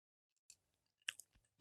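Food is chewed close to a microphone in a few sharp, crunchy bursts separated by silence.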